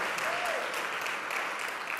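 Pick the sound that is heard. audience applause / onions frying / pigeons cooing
audience applause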